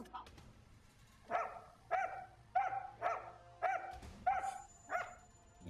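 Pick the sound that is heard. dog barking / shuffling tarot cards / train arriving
dog barking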